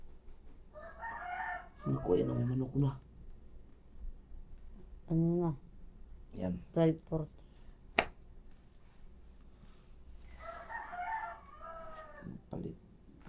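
A nearby rooster crows several times in short bursts on a trip in rural Casiguran, Philippines, with clucking between calls and people talking intermittently around it.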